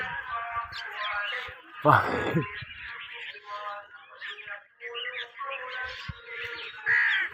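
Assorted calls and chirps of birds at a bird fair mixed with crowd chatter, including a loud harsh caw; busy market bustle with voices throughout.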